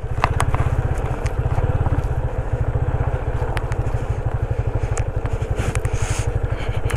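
A lightweight motorcycle climbing a rough mountain trek route in Zanskar valley, Ladakh, its single engine chugging in a fast steady thump close by, with occasional rattles and clatter over the loud continuous drone.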